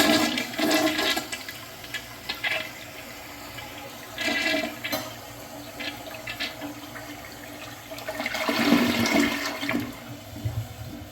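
A 1980s Kohler Barrington toilet flushes, its water rushing and gurgling in surges with a weak bowl rinse. The flush is close and moderately loud and swells again near the end.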